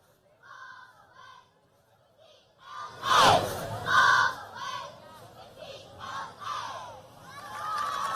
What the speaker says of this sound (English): they're going to do a cheer